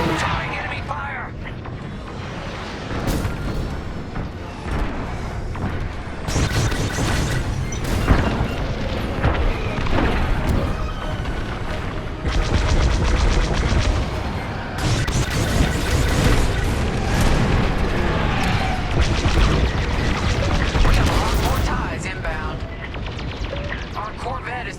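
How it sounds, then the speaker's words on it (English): In the Star Wars Squadrons space-combat game, enemy fire and explosions rumble and boom almost without pause, with loud blasts, crackling laser fire and heavy impacts layered over a constant roar, and radio voices talking through it. "Taking heavy fire"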